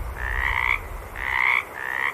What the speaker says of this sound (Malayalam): അങ്ങ് പാടവരമ്പത്തിരുന്ന് കരയുന്ന പോക്കാച്ചിത്തവളകളുടെ ശബ്ദമാണ്.